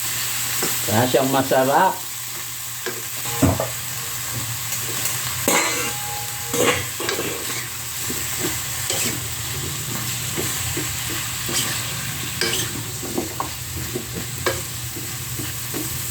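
Mixed vegetables with margarine are stirred in a hot pan, giving a steady close sizzle broken by repeated scraping and clattering strokes, with brief speech at moments.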